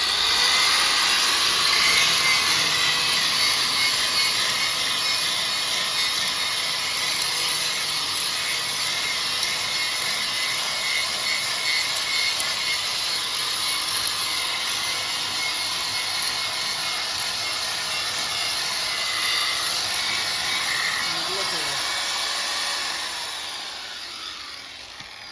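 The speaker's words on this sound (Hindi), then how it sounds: "अब चला देखता चालू करके ग्राइंडर में निकले थे" An angle grinder, fitted with a blade, strips paint from a car wheel rim, a continuous loud, harsh whine with grinding hiss that holds steady for over twenty seconds before winding down near the end.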